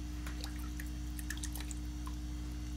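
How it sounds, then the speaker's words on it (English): Small splashes and drips of water patter irregularly over a constant low hum, faint and close, as a small cup is rinsed. "Rinse out my little cup."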